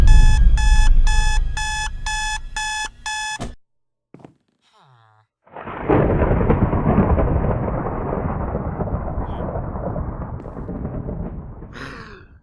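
In the Minecraft horror map The Staircase, an alarm clock rings loudly in rapid, evenly pulsed bursts for about three seconds and then cuts off. After a short silence, a long, heavy rumbling roar follows.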